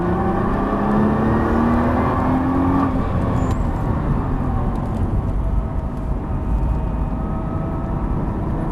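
A Nissan GT-R's engine roars loudly and steadily on a racetrack, its pitch climbing at first as it accelerates hard, close and continuous throughout.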